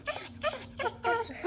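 A dog recovering from right front cruciate ligament surgery whimpers in four short, high, whining bursts close by.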